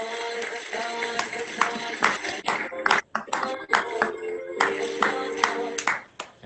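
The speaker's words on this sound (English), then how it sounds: "give yourself a round of applause" Contestants on a dating game show clap for themselves, a loose run of individual hand claps with uneven rhythm alongside music and brief voices.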